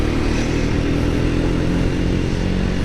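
A Triumph Speed 400 motorcycle engine runs steadily while riding, a close, continuous low drone with a smooth, even tone and no sharp revving, alone with no voices.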